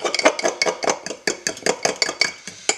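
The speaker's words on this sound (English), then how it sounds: "And give this a good mix. This is the dressing." A dressing is whisked briskly in a bowl for a couclous salad, giving a steady run of rapid clinking, scraping strokes of utensil against the bowl, close and fairly loud, with no voices.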